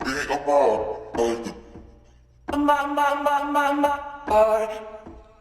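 Tonal, voice-like sampled phrases play alone in short bursts with brief gaps, bright harmonics sustaining under each hit; fairly loud and close.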